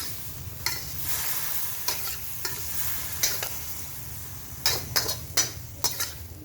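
Gourd and pork stir-frying in a pan with a little water added, a steady sizzle broken by repeated spatula scrapes and clinks that grow busier toward the end.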